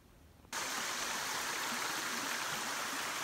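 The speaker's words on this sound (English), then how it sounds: "the trail has me walking alongside this creek" A mountain creek flows steadily beside a hiking trail near the James River. After a quiet half-second, a constant, fairly loud wash of rushing water comes in close by and holds evenly, with no voices.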